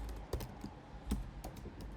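Someone types on a computer keyboard while coding, producing a quiet run of quick, uneven key clicks with a few louder taps, close by and with no voice over them.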